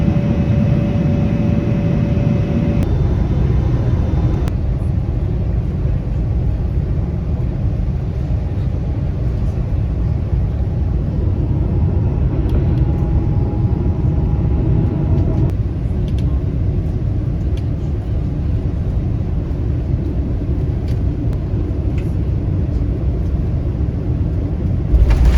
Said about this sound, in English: But now it's time for our descent into Taipei Airport.